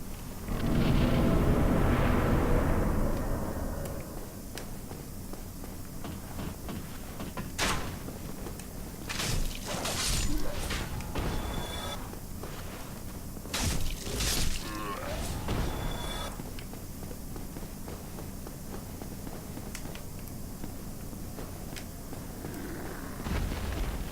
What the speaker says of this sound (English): So actually, fire bombs work really well on him.